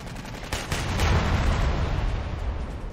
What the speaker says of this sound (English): Shoot the fuel tanks around the APC!